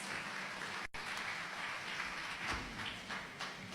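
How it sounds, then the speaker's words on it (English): A quiet, distant round of audience applause at a university ceremony welcoming a guest speaker, a soft continuous patter of many hands with a brief dropout near the start. "Shall we, with a round of applause, welcome Mr. Divine Kporha to give us his address."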